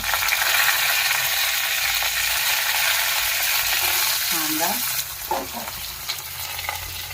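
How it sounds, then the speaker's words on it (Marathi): Cumin, mustard seeds and curry leaves sizzle and crackle in hot oil in a pan, a steady dense fry heard up close throughout, easing slightly in the last couple of seconds, with a few faint clinks. "तेलामध्ये आपण एक चमचा जिरं एक चमचा मोहरी कढीपत्ता"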